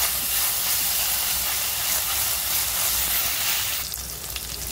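Green chillies drop into frying ginger and garlic, setting off a loud, steady close hiss that thins and softens toward the end.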